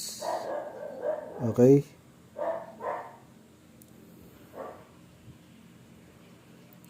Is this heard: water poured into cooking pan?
no